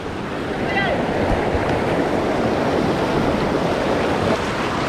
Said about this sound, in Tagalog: Lakas ng agos mga tol.